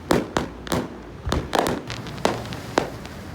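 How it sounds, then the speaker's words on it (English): Fireworks bang and crackle in a rapid, irregular series of sharp explosions, some close together, echoing over a steady background rumble. "that's a cracking firework display"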